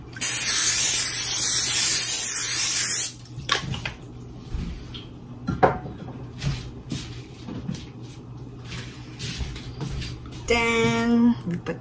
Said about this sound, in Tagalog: Tapos, mayroon akong spray.